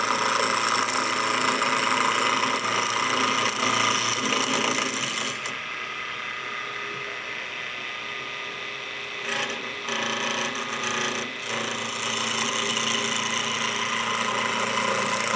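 Woodturning lathe hums steadily as a turning tool slices wood into fine shavings, giving a continuous close-up rasping hiss that briefly dips quieter and then resumes.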